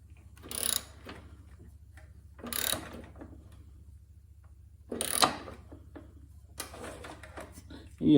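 A ratchet clicks in short separate bursts while tightening a spark plug on a Toro 721 R snowblower, close up with quiet pauses between the runs of clicks.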